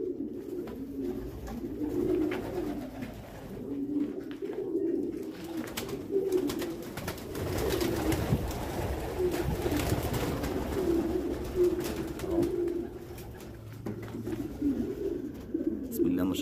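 Pigeons coo steadily and close by at a pigeon farm. Soft, overlapping murmuring calls from several birds continue throughout, with faint rustling in the background.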